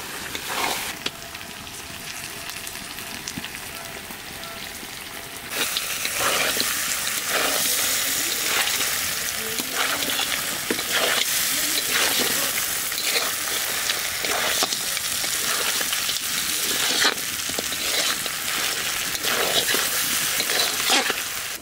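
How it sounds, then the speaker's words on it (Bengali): Duck meat stir-fried with spices in a karahi, a quieter sizzle at first that jumps to a loud, steady frying hiss with scraping stirs, close and continuous. "হাঁসের মাংস কষাতে কষাতে একেবারে কালো করে ফেলাইছি"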